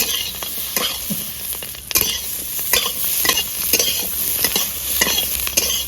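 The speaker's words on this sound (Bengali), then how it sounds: "পেঁয়াজ আর ক্যাপসিকাম হালকা করে আমি ভেজে নেবো" Onion and capsicum lightly frying in a pan for soybean dopiaza, a steady crackling sizzle broken by repeated scraping stirs of a spatula, close and fairly loud.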